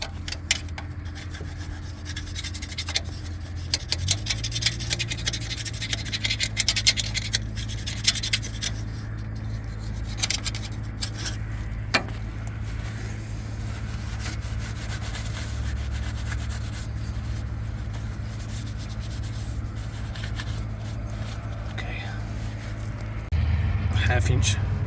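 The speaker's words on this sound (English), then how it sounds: "I gotta clean all around this plug because I don't want any" Scrubbing and rubbing around the differential drain plug on a semi truck, a steady rasping scrape over a constant low engine-like hum, with a person talking over it.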